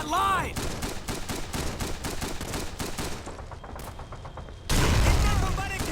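Rapid gunfire in the video game Call of Duty 3, a loud barrage of quick repeated shots in steady bursts, with a short shout at the start and a heavy blast near the end.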